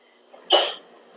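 A single short, sharp human sneeze, close and fairly loud, bursting out of an otherwise quiet room.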